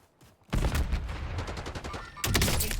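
Video game gunfire erupts suddenly after a quiet moment, dense rapid shots rattling in a loud continuous burst, pausing briefly before another volley, with no clear talking over it.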